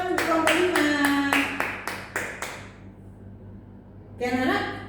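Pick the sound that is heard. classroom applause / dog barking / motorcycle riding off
classroom applause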